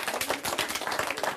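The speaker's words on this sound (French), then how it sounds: "Donc vous pouvez vous applaudir parce que c'est vraiment un super" Orchestra musicians applauding themselves, a short burst of dense, close clapping from a group of players that holds steady and fairly loud for about a second and a half.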